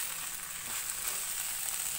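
Sliced capsicum and mixed vegetables for Hakka noodles stir-frying in a pan, a short steady hiss of sizzling oil, close and even, with no voices.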